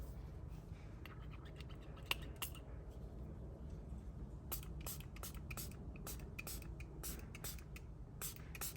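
Soap mix sprayed onto the screen of a BMW from a spray bottle, a series of short, sharp hissing bursts, some in quick pairs, fairly close in a quiet room with no talking.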